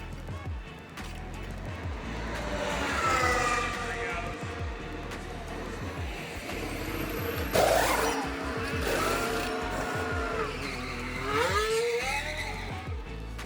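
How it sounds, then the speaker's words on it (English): A McLaren Formula One car during a pit stop at the US Grand Prix, with engine and tire noise and a brief burst of activity amid a loud crowd and paddock chatter, people talking throughout. "So we got to catch Lando's pit stop in action."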